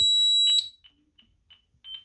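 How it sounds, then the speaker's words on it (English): A home security system's front door delay chime: a steady electronic tone cuts off, then a few short, quiet beeps follow at irregular intervals, close by with no talk. "It does have a chime."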